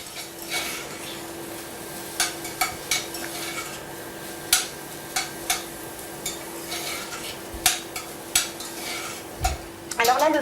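Diced vegetables cut into 3–4 mm cubes sautéing in a pan over high, lively heat, with a steady sizzle under repeated sharp clinks and scrapes of a utensil stirring against the pan.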